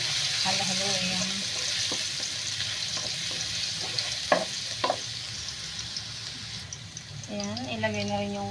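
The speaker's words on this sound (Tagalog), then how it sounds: "mainit na yung mantika. Magigis tayo ng bawang. Halo-halo yan." Garlic sizzles in hot oil in a pan for a pork kaldereta, with a steady frying hiss, scraping stirs and a few clinks while someone talks nearby.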